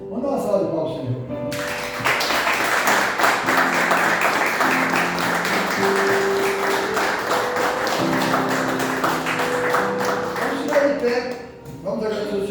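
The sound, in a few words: congregation applause in church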